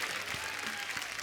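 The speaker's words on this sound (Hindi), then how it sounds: "जोरदार तालियां सब बारातियों के लिए" Brief burst of audience applause in a television comedy show studio, a dense wash of clapping at moderate distance that continues evenly through the moment.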